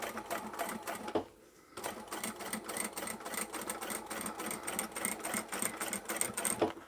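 Sewing machine stitching through thick layers of upholstery fabric for an unlined boxed bag, a steady rapid mechanical chatter that pauses briefly near the start, then runs continuously at close range with no talk.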